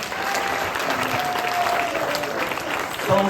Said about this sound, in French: Déjà applaudissez-les s'il vous plaît.